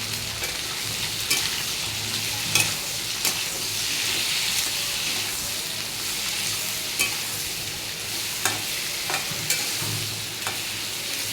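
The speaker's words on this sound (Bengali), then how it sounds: "ভাজা ভাজা হোক, সবজিগুলো ভাজা হোক" Eggplant, pumpkin and potato with a little turmeric sizzle loudly in a pan, a constant hiss broken by sharp clinks and scrapes of stirring at irregular intervals.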